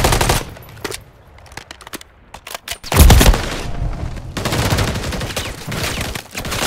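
Call of Duty: Modern Warfare 3 video game gunfire: rapid automatic bursts and single shots, loud and close, with a heavier boom midway and sustained firing afterward.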